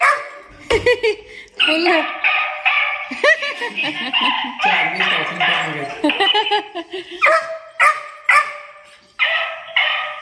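A dog barks repeatedly in short, loud bursts close by at home, with yips and whimpers in between, while people talk and laugh around it.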